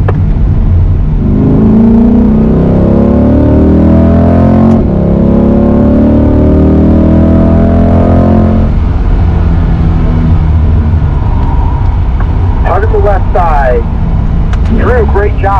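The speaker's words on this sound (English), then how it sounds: "Drew, we're dropping down to third right here." A Chevrolet Corvette C8 on a racetrack drops from fourth to third gear. Its engine note climbs steadily, then breaks off sharply and resettles lower, loud and close. A person speaks over the engine throughout.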